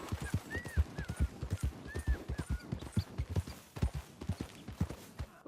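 A horse ridden in Red Dead Redemption 2 gallops with a steady, rapid clip-clop of hooves, close and fairly quiet, with a few faint whistling calls over the rhythm.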